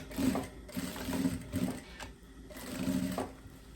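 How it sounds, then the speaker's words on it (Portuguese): Sewing machine stitching the side seam of a viscose maxi dress, rapid mechanical whirring in short bursts separated by brief pauses, close and fairly quiet. "Vamos prender essa costura aqui na lateral da peça até aqui embaixo."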